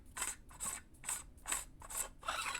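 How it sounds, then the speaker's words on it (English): The threaded handle of a 7 Chambers SK-IG lightsaber hilt is being unscrewed, giving about six rhythmic, gritty metal scrapes in quick succession, close and fairly quiet. "So we'll just unscrew this."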